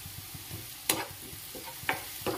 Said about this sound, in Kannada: ಜೀರಿಗೆ ಹಾಕಿದ ಮೇಲೆ ಹೀಗೆ ಫ್ರೈ ಮಾಡಿ